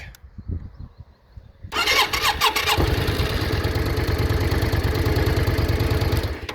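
A starter grinds in short bursts, then a 1998 Yamaha Virago 535 motorcycle engine fires up loudly and settles into a fast, steady idle that holds until the end.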